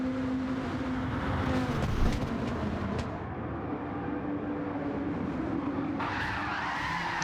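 Race car in Gran Turismo 7 spinning out during an online daily race, tires skidding and squealing over a loud continuous engine roar, close and steady throughout.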